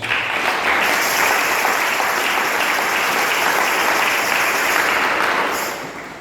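A church congregation claps in sustained, loud, dense applause that holds steady for several seconds before tapering off at the end.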